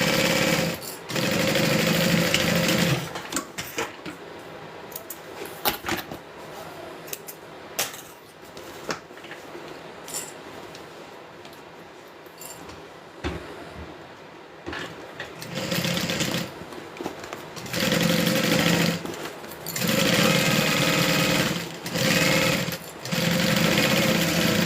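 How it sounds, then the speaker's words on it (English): A sewing machine stitching a fabric bag, loud rapid mechanical whirring runs in several bursts of a few seconds each, separated by quieter pauses and handling noise, with no talk. "Kind of an awkward angle sewing this side."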